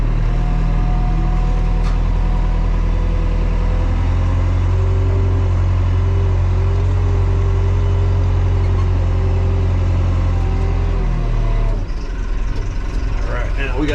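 A backhoe loader's diesel engine runs loud and close as the machine reverses on a curvy mountain road, a deep steady drone with a faint hiss of air, and it drops near the end. Someone talks over it.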